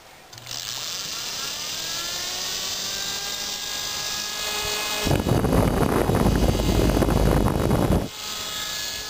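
A vintage Arctic electric fan with a universal motor whines loudly as it spins up, its pitch climbing steadily, then gives way midway to a harsher, broadband roar for a few seconds before easing back to a steady hum.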